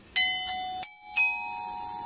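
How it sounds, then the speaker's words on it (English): Page-turn chime in a children's read-aloud of The Story of Ferdinand: two bright, clear ding-dong tones, the second ringing on and sustaining to the end, with no talk over them. "when you hear this chime"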